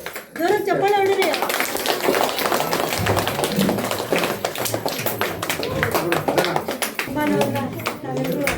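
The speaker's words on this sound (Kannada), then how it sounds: "ಜೋರಾಗಿ ಚಪ್ಪಾಳೆ ಹೊಡೀರಿ." Loud clapping from a crowd of children at a government school Independence Day celebration, a dense burst of hand claps lasting several seconds with voices mixed in over it.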